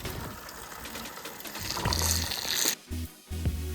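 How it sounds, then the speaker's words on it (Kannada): A water pump motor is switched on for a fire-versus-water experiment, giving a rushing, hissing flow of water followed by a steady low motor hum that briefly cuts out and returns, close and fairly loud. "ಈಗ ಮೋಟ್ರ್ ಚಾಲು ಮಾಡ್ತೀನಿ."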